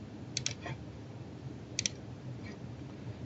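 Two pairs of crisp mouse clicks, evenly spaced about a second and a half apart, with a fainter click following each pair, close and clear over a quiet room hiss with no talking.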